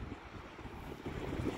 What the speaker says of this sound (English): The wind blowing.